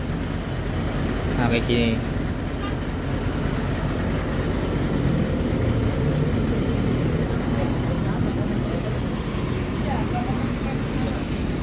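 The new engine of a Garuda Mas Mercedes bus idles with a steady, loud, low rumble that continues unbroken, heard close up, while someone talks over it briefly.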